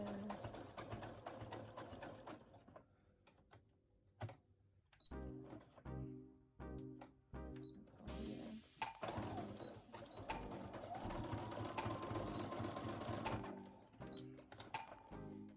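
A sewing machine stitches a buttonhole in short bursts of rapid, mechanical whirring and clattering separated by pauses, close by and fairly quiet.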